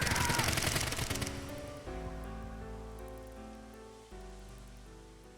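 Gunfire in the video game AI: The Somnium Files nirvanA Initiative: a loud, rapid burst of shots at the start that fades into sustained music tones.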